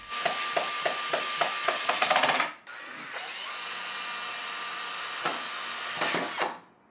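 A power drill drives screws into the timber corner of a custom workbench kit, with a few rapid stuttering bursts followed by a longer steady whir, close and loud with no voices.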